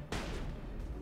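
Turrets fire in a video game: a sudden loud burst of rapid heavy shots that continues as a dense, rumbling barrage for about a second, close and forceful.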